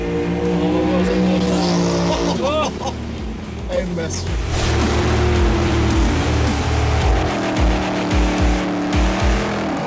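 A Tesla P90D launches and accelerates hard in a drag race against dragsters at a strip, with loud engine roar and tyre noise throughout, while people shout and talk over it.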